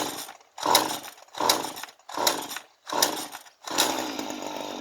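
A flooded small engine is pull-started over and over: five separate short, rough bursts of engine noise, each dying away into a brief silence before the next attempt.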